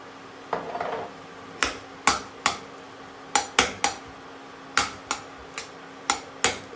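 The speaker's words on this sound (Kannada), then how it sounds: "ಈಗ ಸ್ವಲ್ಪ ಇದಕ್ಕೆ ಗೋಡಂಬಿ ಹಾಕ್ತಾ ಇದ್ದೀನಿ." Cashews stirred in ghee in a pan for a banana sweet, heard as a series of sharp, close metallic clicks and taps from a utensil against the pan, irregularly spaced over a quiet background, without speech.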